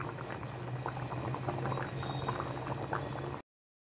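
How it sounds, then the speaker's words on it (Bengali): Boiled moong dal pours into a pot, giving a close, steady liquid bubbling and gurgling that runs for about three seconds and then cuts off. "দিয়ে দেব সেদ্ধ করে রাখা ডাল।"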